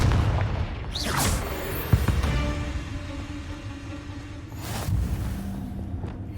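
Confringo blasting spell in Hogwarts Legacy: a whooshing cast followed by a sharp booming blast, then a second whoosh and burst a few seconds later over game ambience.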